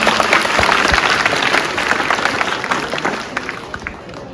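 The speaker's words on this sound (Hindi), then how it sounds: "जोरदार ताली हो जाए भाई इसमें।" An audience at a water-conservation awards event breaks into loud, sustained clapping that gradually thins and fades over a few seconds, with some voices mixed in.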